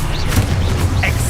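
A Confringo fire spell explodes in the Hogwarts Legacy video game, a deep, booming blast with rumbling low end, loud and brief, along with whooshing magic effects.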